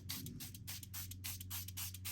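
Coffee is sprayed from a spray bottle onto the back of paper being aged, a run of quick, close, hissing bursts in steady rhythm with no talk.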